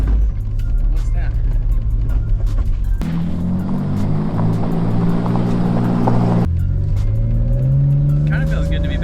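An old BMW E36 drift car drives with a loud, close engine note that rises and falls through gear changes, rev surges swelling mid-run, while people talk over it inside the car.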